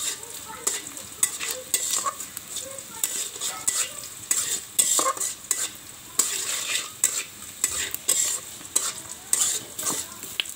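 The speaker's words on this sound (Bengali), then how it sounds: "আমরা পেঁয়াজগুলোকে লাল লাল করে ভেজে নেব।" Onions fry in a pan over a clay stove, a continuous close sizzle packed with rapid spoon scrapes and clinks against the pan.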